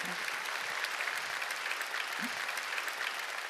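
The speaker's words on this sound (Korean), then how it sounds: "박수 치려면 치고 말고" Sustained audience applause fills a large indoor arena during an evangelistic revival meeting, a dense steady wash of many hands clapping at once, moderately loud and continuous with no pauses.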